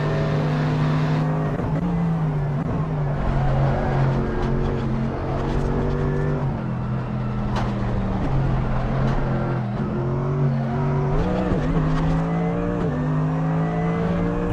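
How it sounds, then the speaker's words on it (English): A modded Mercedes-AMG GT3 race car engine in a racing video game drones steadily at high revs, its pitch dipping and climbing through gear changes, with no talking over it. "This is a sound mod I have for the AMG GT3"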